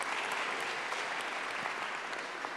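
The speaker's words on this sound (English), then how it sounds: "give Father Jonathan a round of applause for that" A church audience applauds steadily, a soft, even patter of many hands that carries on throughout at moderate distance.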